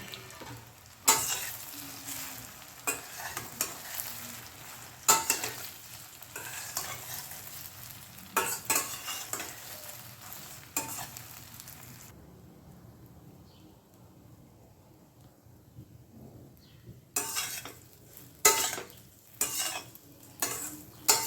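Dhokla pieces tossed in a hot tempering of mustard seeds, cumin and curry leaves, loud sizzling broken by sharp spatula clanks against the pan, a quieter lull midway, then more stirring clatter.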